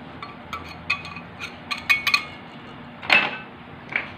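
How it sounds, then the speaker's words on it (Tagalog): A utensil clinks and scrapes against a bowl while cassava flour and sugar are mixed for kutsinta, giving a string of light, irregular taps and chimes close by with a louder clatter near the end. "Ihalo na natin ang ating dry ingredients."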